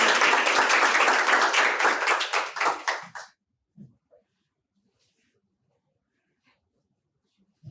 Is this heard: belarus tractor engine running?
no